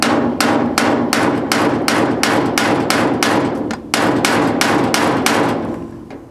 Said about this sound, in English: And you just tap it with a hammer.